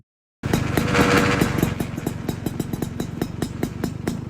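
Exhaust note of a red RC car in a Roblox speed map, a loud steady buzzing engine drone with rapid regular pulses that starts abruptly and holds close and alone throughout.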